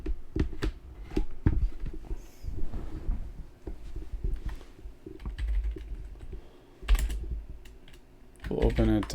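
Fingers tap quickly on a computer keyboard in uneven bursts of clicks, close and fairly loud, with brief pauses between runs and a louder clatter near the end.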